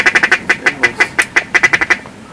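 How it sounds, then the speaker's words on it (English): Teal ducks quack in rapid bursts during a duck hunt, about a dozen sharp, nasal calls in quick uneven succession, loud and close, with no talking over them. "Look at all these teals."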